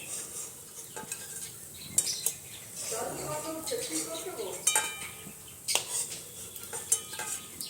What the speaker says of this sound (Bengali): একটু আঁচ কমে ভাজতে হবে এটাকে